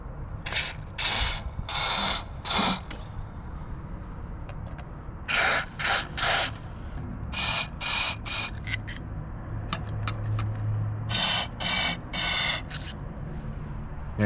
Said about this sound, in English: I think a couple spritz in each one is going to be fine.